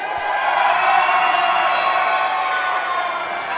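A wrestling crowd at a Raychell Rose vs Skye Blue match cheers loudly and continuously, a dense roar of voices with whoops that holds steady and fades slightly toward the end.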